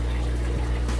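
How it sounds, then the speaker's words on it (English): An aquarium pump in a fish room with PVC plumbing pushes water in a steady, rushing flow with a low hum, continuous and close, with no talking. "apologies for the water noise,"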